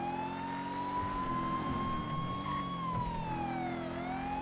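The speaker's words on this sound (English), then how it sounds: "sometimes I have a hard time hearing over these sirens" A police siren wails continuously inside a GTA roleplay game, its pitch sliding slowly up and down over the steady drone of a car engine, loud and close.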